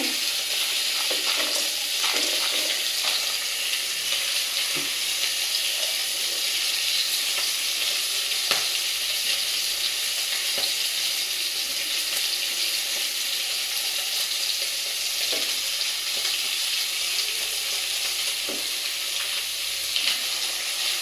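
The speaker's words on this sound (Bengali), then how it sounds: "মাছ অনেক সুন্দর করে একটু ভাজলাম কড়া কড়া করে লাল লাল করে ভাজলাম" Steady, loud sizzling of fish frying crisp in hot oil in a pan, a continuous crackling hiss with occasional small pops and no voices.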